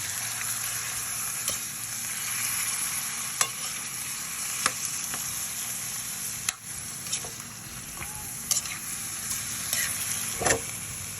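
Chicken pieces frying in a pan for a chicken curry, a steady close sizzle with occasional sharp clinks and stirring scrapes, no talk.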